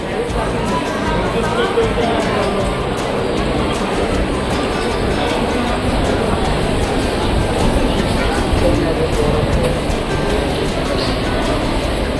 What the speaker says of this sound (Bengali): শিয়ালদা স্টেশনে সব সময় গম গম গম গম করছে লোকে